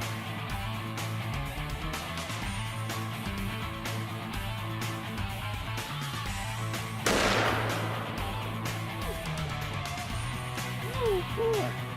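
A single gunshot with heavy recoil cracks out sharply midway through, standing out against a steady hum of background noise.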